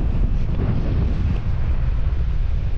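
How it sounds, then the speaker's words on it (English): A northerly wind of about 15 mph blows straight in off the sea at Westgate on Sea beach, buffeting the microphone with a loud, continuous low roar and rumble that carries no talk. "It's a northerly wind that's probably about 15 miles an hour coming straight in our face."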